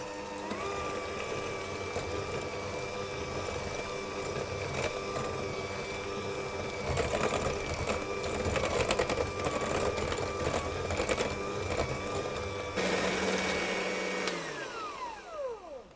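Electric mixer creaming butter and sugar for coconut sablés, a steady whirring motor hum that rises in intensity midway and winds down at the end, with no talking.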